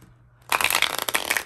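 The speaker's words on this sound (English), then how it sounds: "this deck is hard to shuffle." A tarot deck, a Synesthesia deck that is hard to shuffle, is shuffled up close after a brief quiet moment, giving a dense, crisp riffle of flapping cards that runs steadily to the end.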